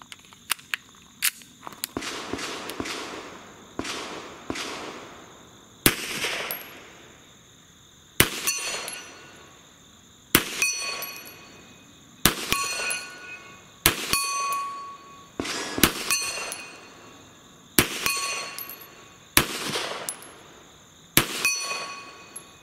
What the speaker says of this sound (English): Let's see if I can hit that 8-inch steel target at 50 yards